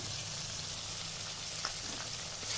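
Ginger-garlic paste and ground nut paste being stirred in a pan for a quick Bengali egg curry, a steady soft sizzle and frying hiss running throughout, with a faint scrape or two near the end.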